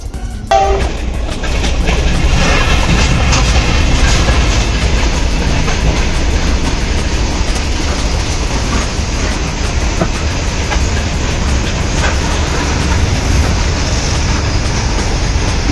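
A train rolls past a railway level crossing near houses in Goa, loud and close throughout, with steady clattering wheels and rumbling cars sustained for the whole passage and no talk.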